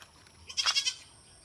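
A goat out in a field gives a single short, wavering bleat, close and fairly clear, over a quiet background.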